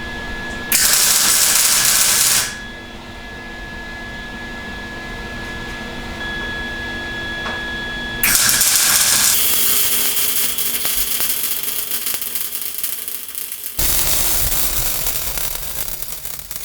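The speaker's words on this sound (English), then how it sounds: "and I'll weld it on camera." MIG welding reinforcement plates onto a BMW E30 rear subframe: loud bursts of crackling, hissing arc noise in several long passes, separated by quieter shop background hum, with no talking.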